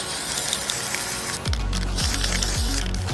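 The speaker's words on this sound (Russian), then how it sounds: "Теперь надо хорошо стряхнуть баллончик. И тонким слоем потихонечку наносить краску." An aerosol spray paint can hisses onto an RC car body shell, an Arrma Limitless V2 Lamborghini, in several short close bursts after a quieter start.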